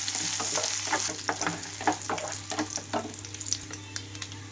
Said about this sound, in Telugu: అలాగే కరివేపాకు రెమ్మలు కూడా తాలింపు గింజలు అంతా చిటకటమనే వరకు వేయించుకోవాలి